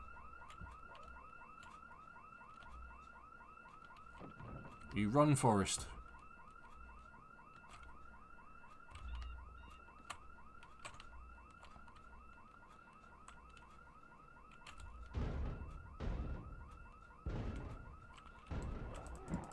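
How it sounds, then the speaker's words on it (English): A car alarm goes off in the video game Project Zomboid, blaring its steady, looping repeated tone throughout at moderate distance, while a brief voice speaks over it and a few louder thumps and noise bursts break in. "And when the alarm goes off, you run away."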